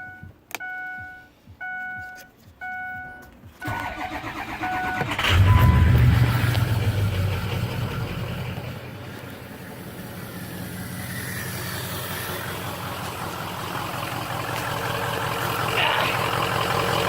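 A 2003 Ford F350 with the 6.0 diesel, out in the cold, cranks several times with a rhythmic starter whine, then catches with a loud low roar that settles into a steady rough diesel idle.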